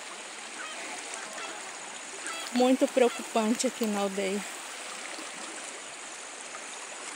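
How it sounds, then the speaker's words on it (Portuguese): A strong river current rushes past a flooded village in Rio Branco Indigenous Territory, Alta Floresta, Rondônia. The steady, hissing roar of water runs throughout, and someone speaks briefly over it midway. "olha como é que está a correnteza. Muito forte"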